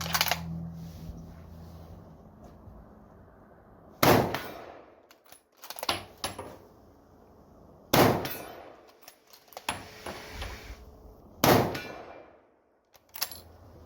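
Four loud, sharp rifle shots from a Ruger M77 in 7mm Magnum, fired outdoors at roughly even intervals, each with a ringing tail and echo and short pauses between.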